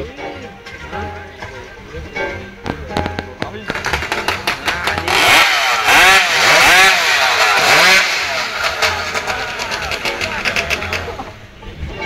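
Stihl chainsaw engine starting up and then revving hard, sputtering first and then roaring in repeated loud surges, with people talking and exclaiming around it.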